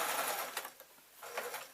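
A sewing machine stitches along a half-inch seam on a lined, interfaced grab bag, running in two quick bursts of rapid whirring with a brief pause between, close and moderately loud.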